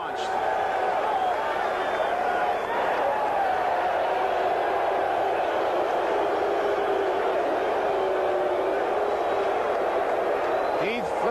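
Baseball stadium crowd at a 1981 Athletics playoff game, a steady broad roar of many voices after a strikeout, sustained and distant, with a broadcaster talking over it.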